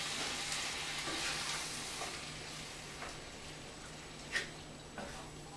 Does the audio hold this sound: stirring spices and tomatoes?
yes